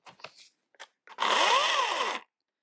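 A Wen battery-powered electric chainsaw runs in one short, high, whining burst of about a second. Its pitch rises and falls, and it follows a few faint clicks and handling noises.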